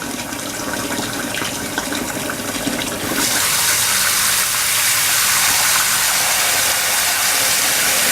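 Cold water gushes from a tap into a sink, a rushing splash that suddenly brightens and intensifies, continuing loudly and steadily.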